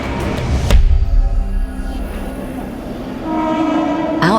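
An outdated, overcrowded passenger train rumbles past loudly and close, its horn sounding with sustained tonal blasts over steady rail noise and clatter.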